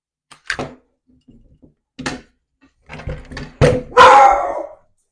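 A dog barks in a few scattered, sharp bursts with quiet gaps, ending in a loud, close, drawn-out bark or howl, heard alone indoors.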